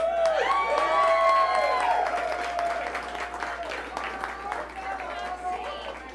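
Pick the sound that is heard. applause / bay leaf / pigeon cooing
applause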